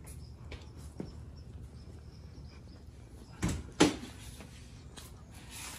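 A 1933 Willys car door thumps and clunks twice in quick succession in a quiet room, a short sharp impact followed by a brighter latch-like knock.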